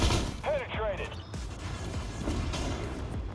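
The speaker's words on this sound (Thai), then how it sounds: "คือเรายิงเขาเข้าแต่เขาก็ยิงเราเข้าเนี่ย" Tank cannon fire and battle din in the video game Armored Warfare with an Abrams AGDS, heavy booming blasts and rumbling explosions under someone talking.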